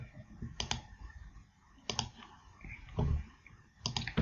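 A computer mouse clicks in a few short, sharp pairs spaced a second or two apart, close and fairly quiet, set against a faint room hum on a Windows 7 PC with no voices.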